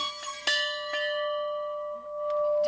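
A bell hung on a chapel-style garden potting shed rings out with a few clear, sustained strikes, its tone lingering and slowly fading between hits, heard alone with no talk.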